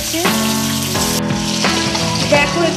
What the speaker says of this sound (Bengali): এবারে 3টে মাছও আমরা কিন্তু ভালো করে ভেজে নেব